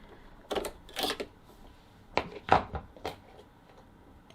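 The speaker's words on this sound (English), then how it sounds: "So now I'm going to take off my walking foot" Walking foot being removed from a sewing machine, a scattered series of small metallic clicks and clunks, close and moderately loud, irregularly spaced with brief quiet gaps between them.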